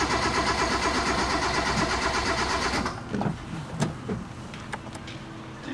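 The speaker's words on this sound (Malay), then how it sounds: "Apek pasang dulu bateri dan kita akan hidupkan enjin ini" A 1989 Proton Saga with its Magma engine being started after overhaul, a loud steady mechanical whir that cuts off sharply partway through, followed by scattered clicks and knocks.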